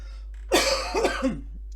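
A single sharp cough, close and fairly loud, breaks into a rough, voiced throat-clearing rasp that trails off over about a second, with no talking.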